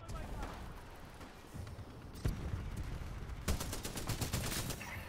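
Gunfire in the video game Titanfall 2: scattered shots, then a sustained stretch of rapid repeated bursts toward the end, with a voice talking in the background.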